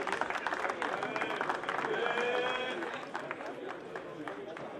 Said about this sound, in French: Et on les applaudit, s'il vous plaît.